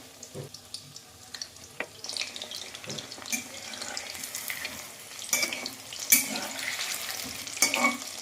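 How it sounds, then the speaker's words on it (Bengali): Coated chicken pieces for chilli chicken frying in oil, a light crackling sizzle with scattered pops and brief clinks, growing busier and louder toward the end, no voices. "দেখো কত সুন্দর কোট করে চিকেনটা ভাজা হচ্ছে"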